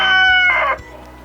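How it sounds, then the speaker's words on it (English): A rooster crows loudly and close by, one long strained call that breaks off abruptly near the end. "that's that stupid rooster"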